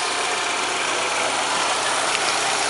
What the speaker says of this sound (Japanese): 静かなアイドリングです。